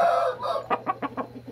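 A rooster gives a short run of about five rhythmic clucks, close and fairly quiet, after a brief throaty call at the start.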